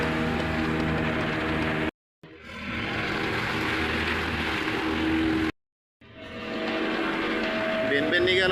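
A fishing boat's engine runs steadily out on the water with a loud continuous drone that cuts out twice in brief gaps, under ongoing talk.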